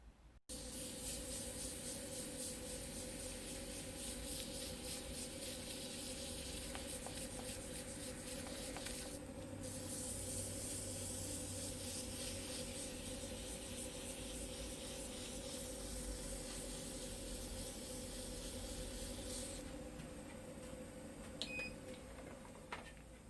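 Sandpaper rubs steadily against a spinning Thuya burl wooden bowl on a lathe, giving a constant close hiss over the machine's hum that changes briefly partway through and then trails off near the end.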